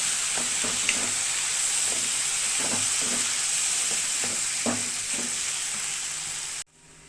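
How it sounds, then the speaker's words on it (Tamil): Salted tapioca is stirred and broken up in a hot pan, giving a steady sizzle with repeated scraping strokes about every second, close and continuous, with no voices. "கிழங்கு வந்து நல்லா கொத்தி விட்டு சின்ன சின்ன பீஸாக ஆக்கி விடலாம்"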